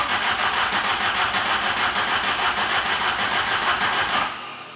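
A 1992 VW GTI, left sitting for eight years, cranks steadily in a fast rhythmic churn without catching, then the starter cuts off near the end.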